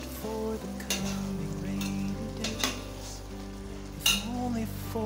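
Broccoli in tomato sauce cooking in a pot gives a steady close bubbling sizzle, with a few knocks and clinks of a utensil against the pot and a low background hum.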